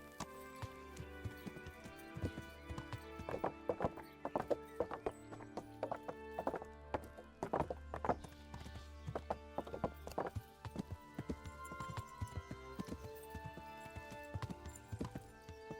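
Horse hooves clip-clop steadily in the medieval RPG Kingdom Come: Deliverance, with a horse neighing and game music playing throughout, loud and close.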